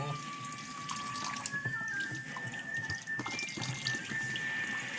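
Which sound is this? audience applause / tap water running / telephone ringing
tap water running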